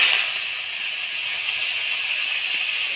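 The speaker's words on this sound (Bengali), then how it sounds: "অল্প তেল দিয়ে থানকুনি পাতাগুলা ভাজে নিব।" Chopped thankuni leaves frying in a little oil give a steady, bright, hissing sizzle that holds even and close for the whole stretch, with no voices over it.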